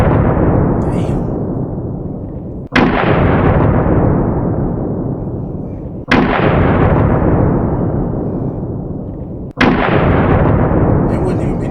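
Three huge 4 bore rifle shots fired at bulletproof glass, each a sharp loud blast followed by a long rolling decay, spaced about three and a half seconds apart.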